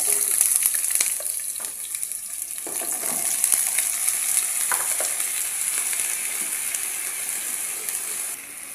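Sliced eggplant fries in hot oil with a steady, close, loud sizzle that runs the whole time, while occasional stirring scrapes sound over it.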